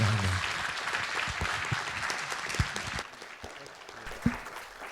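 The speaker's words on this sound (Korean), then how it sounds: "네, 박수로 하겠습니다." Warm applause from attendees at the close of a lecture event at KIST, steady dense clapping that eases a little partway through, with a few louder claps standing out near the end.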